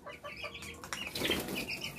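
Short clucking calls from a chicken, several in quick succession, up close and fairly quiet, with a brief rustle of movement partway through.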